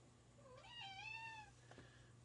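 A house cat gives a single drawn-out, rising and falling meow indoors, fairly close and clear against a quiet background hum.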